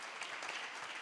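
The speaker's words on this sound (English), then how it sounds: "a big thank you to all of you and a round of applause" An audience at a party panel discussion applauds its guests, a dense, even wash of many hands clapping that holds steady for the whole second.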